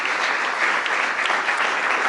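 A crowd at the 2021 White House menorah lighting ceremony breaks into steady, dense applause, a continuous wash of many hands clapping together that holds evenly for the whole stretch with no voices.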